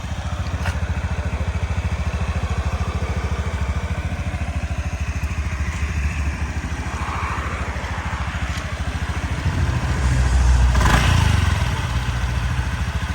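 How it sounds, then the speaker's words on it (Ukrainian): A Honda Dio 110 JF58 fuel-injected scooter engine idles steadily up close with a smooth, even putter, rising briefly in a throttle blip near the end before settling back. No one speaks. "Красиво, чистенько працює двигун."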